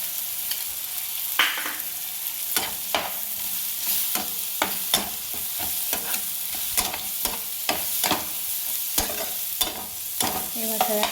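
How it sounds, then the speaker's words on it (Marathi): Spice masala sautéed and stirred in a pan: repeated sharp spoon scrapes and taps at an irregular pace over a low, continuous sizzle, close and clear, with no talking. "हे मसाले चांगले परतून घेऊया।"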